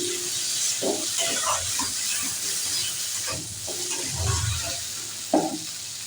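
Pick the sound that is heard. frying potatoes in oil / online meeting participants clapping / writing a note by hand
frying potatoes in oil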